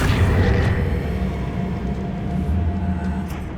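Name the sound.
Accio spell effect in Hogwarts Legacy video game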